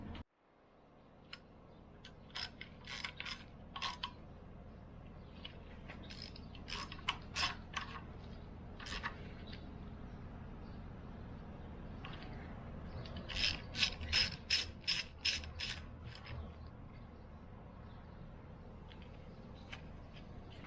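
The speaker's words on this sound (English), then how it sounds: "now that these are tightened, now we can put some torque on them" A ratchet torques the head studs on a BMW M52 engine, with bursts of quick, close clicking in several separate runs, a dense cluster of strokes near the end, and quiet shop background between runs.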